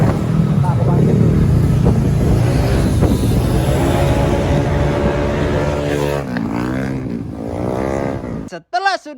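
A Yamaha MX King motorcycle engine revs and drones during a test ride after overheating trouble, its pitch rising and falling as it passes, with people talking over it near the end.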